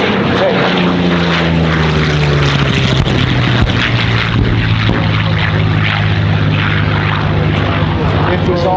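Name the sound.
WWII warbird propeller airplane flying at airshow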